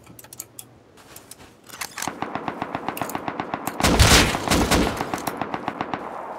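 Fast, evenly spaced automatic gunfire from the Rust video game, a steady rhythmic stream of loud shots that swells into a heavier, denser burst midway before continuing at a regular pace.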